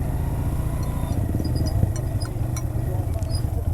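A motorcycle engine runs steadily up close on a snowy road, a continuous low mid-pitched drone with faint rattles, heard alone without talk.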